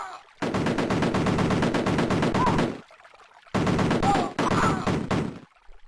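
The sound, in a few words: gunfire in Amiga video game Cannon Fodder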